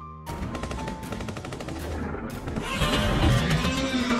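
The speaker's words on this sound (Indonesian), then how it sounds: "tembakan." In a film scene, rapid automatic gunfire rains on Godzilla as it rises from the sea: dense, fast-repeating shots in a continuous barrage, with a rumble building underneath.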